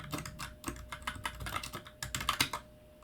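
Rapid, uneven keystrokes on a computer keyboard while entering course setter names into team scoring software, close and clear with bursts of clicks and brief pauses, no talking.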